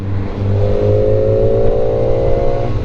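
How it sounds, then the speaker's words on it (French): A Kawasaki ZX4-RR motorcycle's exhaust is loud and close as it accelerates, its pitch climbing smoothly under load for the whole stretch with a dense, buzzy howl. "C'est un vrai bruit d'échappement qui habille le tout"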